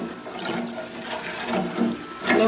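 Water pours steadily into a large pot of rice for chicken mandi, a continuous splashing gush that swells louder near the end. No voices are heard.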